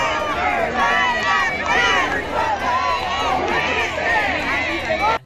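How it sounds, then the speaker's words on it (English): A big outdoor crowd gathered to await a rumoured reveal keeps up a loud, steady murmur of overlapping voices, with occasional shouts rising above the dense babble. "The crowd is big, ready to go."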